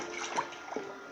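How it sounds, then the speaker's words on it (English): Water streams softly through a water elevator in a Minecraft survival world, a faint steady flowing wash with no talk. "Again, water elevator."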